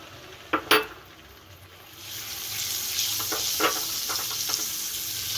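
Whisked yogurt added to roasted chillies in a pan for dahi mirchi, a couple of sharp utensil clinks and then a loud, rising sizzle with stirring scrapes that hiss on steadily.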